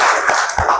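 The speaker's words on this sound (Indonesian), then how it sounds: "Oke, tepuk tangan untuk kita semua." A group in a classroom gives a short burst of applause, close, loud, brisk hand claps lasting under a second.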